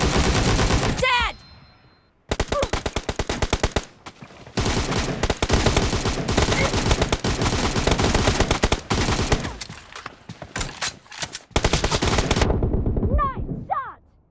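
Heavy gunfire in a PUBG Mobile team-deathmatch arena: long loud bursts of rapid automatic shots separated by short silences, close and intense, with brief game voice callouts.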